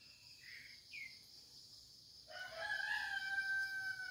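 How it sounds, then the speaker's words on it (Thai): A young red junglefowl rooster learning to crow gives short, thin, wavering crows that grow longer, over a steady background chirr of crickets. "กับไก่ป่าตัวที่รักมากโอ้โหเริ่มขันแล้วนะครับหัดขัน"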